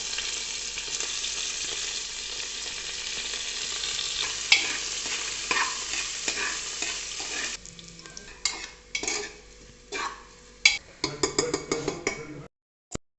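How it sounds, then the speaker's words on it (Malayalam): Chopped garlic, ginger and onion hiss loudly in a hot pan for several seconds, then the sizzle gives way to uneven scraping and clinking strokes of a spoon stirring them, ending abruptly. "ഇനി നമുക്ക് ചോപ്പ് ചെയ്ത വെളുത്തുള്ളി, ഇഞ്ചി ഇട്ട് കൊടുക്കാം. കുറച്ച് സവോള ഇട്ട് കൊടുക്കാം"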